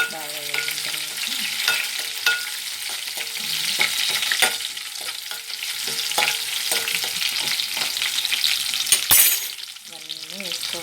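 Ingredients for a mixed-vegetable curry (mukkala pulusu) fry with a steady sizzle while being stirred, with periodic scraping and clinks, and background music playing throughout.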